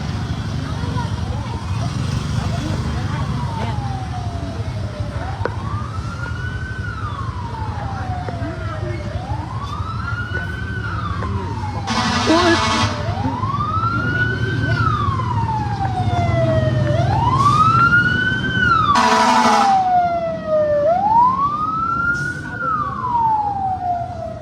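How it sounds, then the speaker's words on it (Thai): A loud wailing fire engine siren rises and falls repeatedly, close by in city traffic at a transformer explosion fire, with a deep engine rumble, bursts of air horn and some talk underneath. "รถดับเพลิง"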